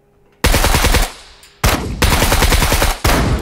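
Automatic gunfire in the survival game Scum rattles out in loud, close bursts, three or four rapid strings of shots separated by short pauses.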